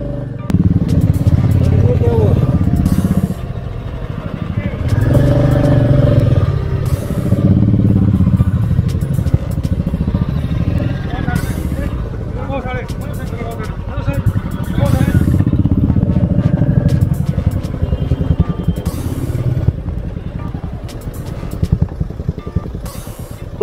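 Motorcycles of a group of bikers ride past on a mountain road between Jammu and Patnitop, a steady close engine roar that swells and fades in waves, with people talking throughout.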